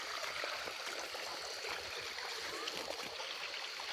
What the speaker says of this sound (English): This is the water that is coming from that waterfall.